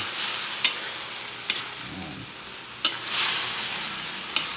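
Smoked fish being stirred into ground meat in a pan, with a steady frying hiss and a few sharp spoon clinks against the pan, close and unaccompanied.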